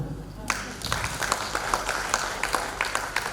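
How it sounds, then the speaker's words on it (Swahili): Audience at a widows' seminar breaking into applause, a sudden burst of many hands clapping that keeps up steadily, fairly close and loud, with scattered individual claps standing out. "kwanza tuwapigie makofi"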